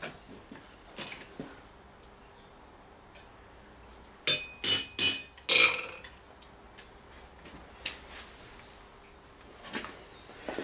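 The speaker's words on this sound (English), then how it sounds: "So we'll give it another couple of taps." A hammer taps on a rivet in a piece of armour during rivet removal, a quick cluster of four or five sharp, bright metallic strikes close by, with quieter knocks and handling noises before and after.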